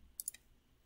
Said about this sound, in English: Let me click on this.